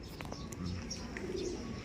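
Racing pigeons coo softly and faintly at a distance, a few low calls with some light chirps, as someone speaks nearby.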